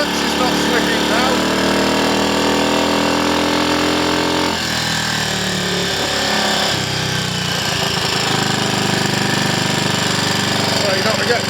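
A Triumph Scrambles Cub replica motorcycle on a road test after clutch and gearbox work, its single-cylinder engine chugging loud and close, pitch dropping and rising through gear changes over the whole stretch.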